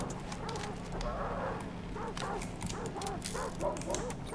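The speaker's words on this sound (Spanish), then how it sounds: "acaba de asustar a los perros" Startled dogs in the video game Hunt: Showdown bark and yip in short, repeated bursts at moderate distance, layered over a low droning game ambience.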